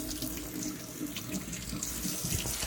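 Water runs from a tap into a sink in a house with a faulty Worcester Bosch C7 boiler, a steady close splashing stream that stays even and unbroken.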